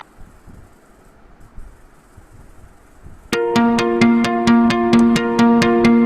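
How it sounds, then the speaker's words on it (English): An MD Pneumatics rotary lobe positive displacement blower starts running after a few seconds of low background noise. It settles into a loud, steady hum with strong tonal harmonics and a regular, rapid pulsing. "These rotary lobe positive displacement blowers are known for their reliability and rugged construction."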